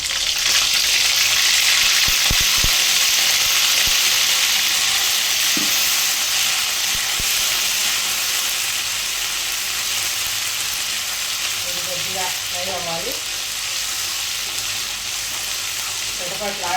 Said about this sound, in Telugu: ఇదిగోండి అల్లం వెల్లుల్లి పేస్ట్ అయితే ఆయిల్లో వేసేసుకున్నా